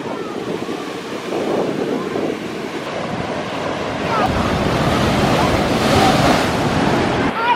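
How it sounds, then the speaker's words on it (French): Large ocean waves break and surge on a beach in Hawaii, a steady roaring wash mixed with gusty wind buffeting the microphone, swelling louder toward the end. "Genre les vagues, elles sont énormes."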